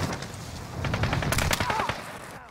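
Rapid automatic gunfire in Call of Duty Warzone, with several fast bursts of sharp cracks rattling close by in the middle of the clip over a steady game background.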